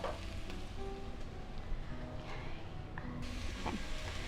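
Onions and mushrooms sizzle steadily in a pan while being stirred, a dense continuous frying hiss with occasional soft scrapes, close and fairly quiet, with no talking.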